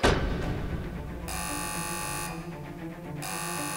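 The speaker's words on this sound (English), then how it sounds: "The alarm's going." A toy dinosaur park alarm buzzes steadily and loudly through the whole stretch, a continuous electronic tone that cuts out briefly and resumes, over a busy toy-play background.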